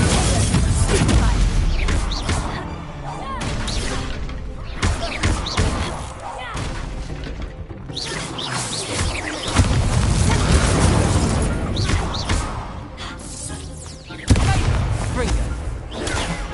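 Confringo explosive spell blasts in the Hogwarts Legacy video game land as repeated loud booms and bursts during a dense combat mix, with other spell effects and game voices running throughout.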